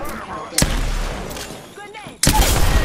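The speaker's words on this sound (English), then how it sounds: "I'm getting shot in the back." Gunfire in the battle royale game Apex Legends comes as sharp, loud bursts of shots separated by short pauses, with players talking over the action.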